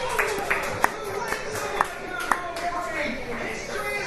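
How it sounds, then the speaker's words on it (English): Light, scattered clapping from a distant crowd in the video game Formula 1 2012 at Monaco, a thin patter of applause with a few sharper claps standing out over a steady background hum. "based on the small amount of applause you just heard"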